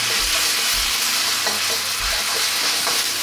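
Beef chow fun rice noodles stir-fry over high heat in a hot pan until they char. Loud, continuous sizzling is broken by repeated low thumps and scrapes as the noodles are tossed, with no one speaking.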